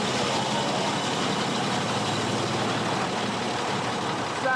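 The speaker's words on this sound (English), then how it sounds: "Sounds absolutely gorgeous, this engine." A First World War-era British tank engine with overhead valves and crosshead pistons runs steadily, a loud, continuous rumbling drone that holds even throughout.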